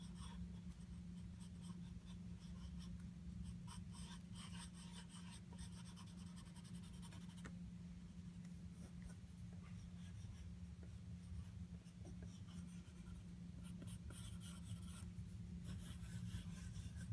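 Pen and pencil drawn across paper for a still-life sketch, a steady close scratching and rubbing of strokes that runs continuously over a low background hum, with no voices.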